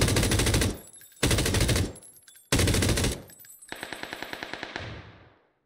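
An M249 light machine gun fires in a video game: three dense, loud full-auto bursts with brief gaps, then a slower rattling string of distinct shots that fades out.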